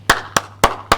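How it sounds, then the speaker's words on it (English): One person claps their hands four times at an even pace during an online live-streamed contest event, crisp close sharp claps with nothing else audible. "This is at least what I can do, applaud for you."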